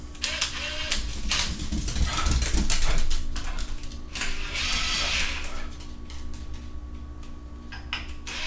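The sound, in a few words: screw gun driving supercharger assembly bolts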